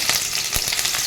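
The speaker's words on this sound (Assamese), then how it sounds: "তেলখিনি গৰম হৈছে মোৰ ইয়াতে এতিয়া মই পিয়াজখিনি দিলোঁ।" Chopped onions hitting hot oil in a kadai, a bright crackling sizzle with small popping bursts, close and loud, no voices.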